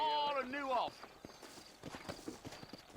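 Horse hooves clip-clop in the Red Dead Redemption video game, a run of quick hoof taps following a horse's whinny, with game dialogue spoken over them.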